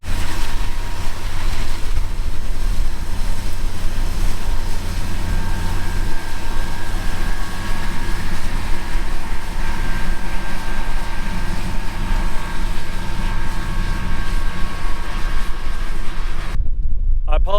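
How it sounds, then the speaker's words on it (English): Strong wind battering a microphone out in a barley paddock in Western Australia, a constant loud low rumble with steady droning machinery hum underneath, cutting off abruptly near the end. "I apologise if it's still windy noise. It's still quite windy out here."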